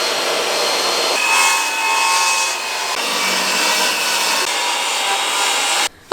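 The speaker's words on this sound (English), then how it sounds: "using the table saw to rip down the pallets" A table saw rips old pallet boards into strips for tiny house walls, giving a steady, loud broadband cutting roar with a faint tonal whine that ends abruptly.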